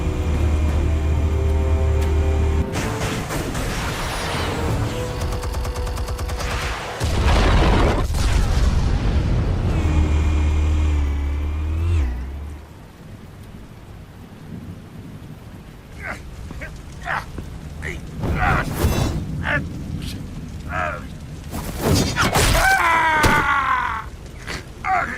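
Explosives going off in a Batman video game: heavy booming blasts and rumbling roars in the first half, fading into scattered sharp impacts and game noises, with voices from the game under the action.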